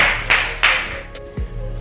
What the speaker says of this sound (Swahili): Makofi makubwa kwa Feno Boy